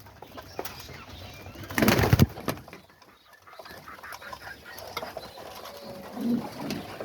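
Homing pigeons coo softly in a loft at feeding time, with a loud burst of wing flapping and scuffling near the start and low murmuring coos continuing afterward.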